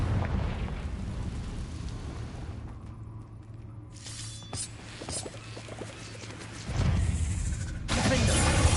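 Confringo spell blasts in the Hogwarts Legacy video game, rumbling booms and bursts between stretches of quieter game ambience, with a heavier explosive surge near the end.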